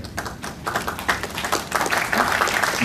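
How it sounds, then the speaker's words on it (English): Audience applause at a Jim Lee convention panel at Fan Expo 2019, a spread of scattered claps building into steadier clapping over a few seconds, moderately loud in a large hall. "Well, thank you for the applause"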